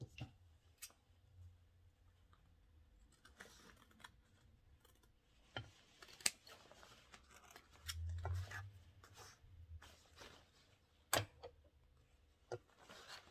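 Scissors trim the curved fabric edge of a pants pocket, making faint, sparse snips and clicks spread over several seconds against a low, quiet background.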